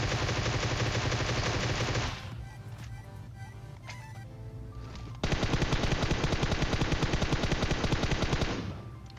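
Rapid automatic gunfire in the PUBG Mobile video game, two long dense bursts of shots, loud and close, with a quieter gap of scattered sounds between them.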